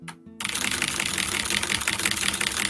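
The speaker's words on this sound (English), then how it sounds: "it was just keyboard noise all over it" Rapid, continuous clacking of a mechanical keyboard during an Undertale speedrun at a charity marathon, close and busy after a brief quiet start.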